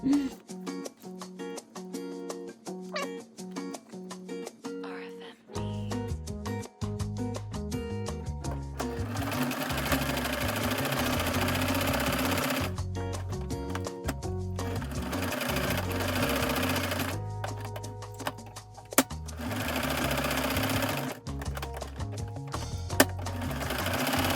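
A sewing machine stitching fabric in bursts, a rapid mechanical whirring and clatter that starts and stops several times with brief quiet pauses between runs, close and clear.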